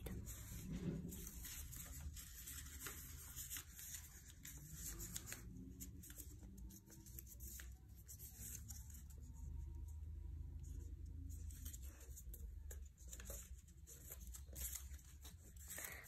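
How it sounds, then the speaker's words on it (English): Low rumbling of a garbage truck outside, steady and muffled in the background, with occasional faint clatter and rustling nearby. "Sorry if you hear the background noise, the garbage truck is outside."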